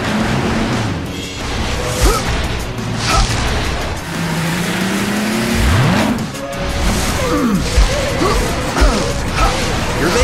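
Cartoon race cars speed past in quick succession, loud whooshing engines with rising and falling pitch, sweeping by over a busy animated soundtrack.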